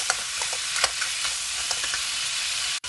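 Blue swimmer crab stir-fried with curry powder in a pan, a continuous hot sizzle with scraping stirring strokes over it and a brief drop near the end, no speech.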